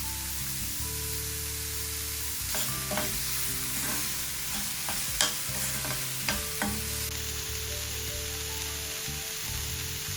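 Chopped onions with salt dropped into hot oil for a kebab roll filling: a steady frying hiss with a series of clattering spoon scrapes and taps in the middle, close, over a low background hum, no talking.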